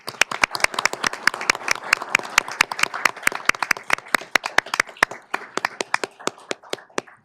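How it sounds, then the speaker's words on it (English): A board of commissioners meeting audience claps in a loud, fast, evenly spaced round that keeps going steadily before slowing and fading near the end. "just want to give you a round of applause"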